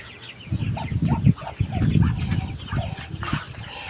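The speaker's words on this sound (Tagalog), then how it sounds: "Itong mga bagong sisiw." Newly bought baby chicks, heard close as a cluster of short chirping and peeping calls in irregular bursts, mixed with soft rustling and movement.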